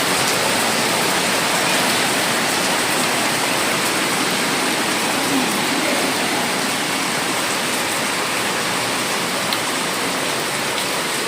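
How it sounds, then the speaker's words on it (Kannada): Heavy rain pours down in a dense, unbroken roar, steady and loud throughout with no voices. "ಮಳೆ ಬರ್ತಾ ಇದೆ ಫ್ರೆಂಡ್ಸ್ ಮಳೆ ಸ್ಟಾರ್ಟ್ ಆಯಿತು ಜೋರು ಮಳೆ ತೋರಿಸ್ತೀನಿ ನೋಡಿ"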